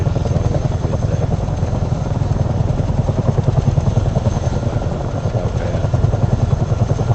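Steady, loud rotor throb of a CH-47 Chinook twin-rotor helicopter in flight, heard from inside or close by over sparsely populated ground, a dense continuous drone with a brief voice over it.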